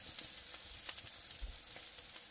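Ground spices such as coriander, cumin, turmeric and chili powder with garlic paste frying in a pan for matar paneer, giving a soft, steady sizzle with faint scraping and stirring ticks throughout.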